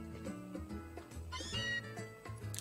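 A cartoonish cat meow cry from the Pokémon Ultra Moon video game, a short rising-and-falling mewing call heard alone over soft background game music, fairly quiet.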